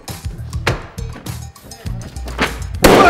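Balloons bursting one after another during a couples' game show contest, several sharp pops spread across the clip with a loud burst near the end, amid studio noise and short bits of talk.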